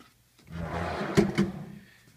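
A self-closing secret compartment drawer in a tactical desk slides and shuts, giving two sharp close knocks in quick succession after a soft sliding rumble, near and alone.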